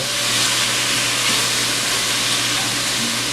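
Ingredients sizzle steadily in olive oil in a pan while being stirred for beef chili, a continuous close frying hiss with no talk.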